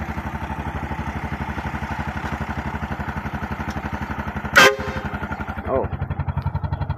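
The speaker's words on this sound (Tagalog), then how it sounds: "Inato kusog atong busina." A motorcycle engine putters rhythmically up close, then a sharp, loud horn blast cuts through, followed by a brief softer honk.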